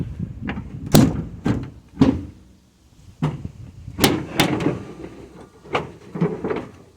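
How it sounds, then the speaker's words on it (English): Door of a GMC Silversides motorhome being closed, a series of sharp knocks, thuds and a latching slam close by, spread over several seconds with no talking. "So I'm going to close it for a sec."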